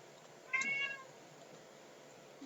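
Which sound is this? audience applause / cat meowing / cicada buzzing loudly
cat meowing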